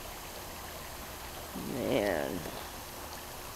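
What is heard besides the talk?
babbling creek water flowing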